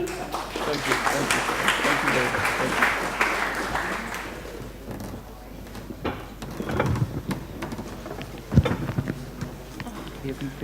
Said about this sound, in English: You'll have to clap one more